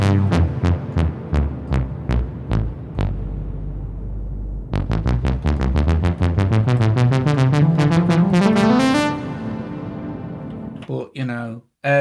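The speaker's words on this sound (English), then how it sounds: "this is the chorus sound" Repeated notes from an Arturia MatrixBrute synthesizer with a shimmering chorus effect, pulsing steadily then rising in pitch, loud and close, followed by brief talk at the end.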